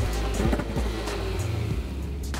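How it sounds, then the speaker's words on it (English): A classic Nissan Skyline engine runs close by, its low rumble rising and falling with short revs and a steady idle throughout, no voices. "This is a classic Nissan Skyline."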